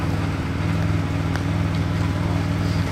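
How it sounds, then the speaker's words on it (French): Koenigsegg car engine running while driving through mud, a steady loud low rumble with strong harmonic drone throughout, continuous and close. "Vous avez entendu là un peu le bruit de la Koenigsegg et comme c'était violent."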